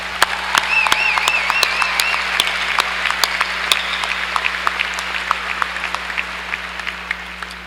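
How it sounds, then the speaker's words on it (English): A commencement audience claps for the graduates: crowd applause with sharp individual claps standing out, steady throughout, alongside a faint whistling tone and a low hum. "So let's give all of these graduates another round of applause."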